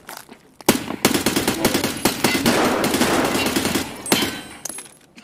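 Sustained automatic rifle fire in a video game, loud rapid bursts running almost continuously for several seconds with brief pauses near the start and end.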